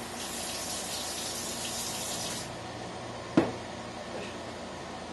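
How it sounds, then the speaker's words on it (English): Cold water running from a kitchen tap for lemonade-making, a steady broad rush that stops partway through, followed by a brief knock and quiet room tone. "Cold water, more cold water this time."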